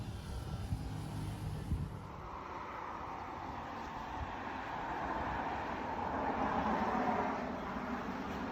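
Aircraft engine near Phuket airport in Thailand, a steady broad roar that swells gradually louder toward the end, heard alone without talk.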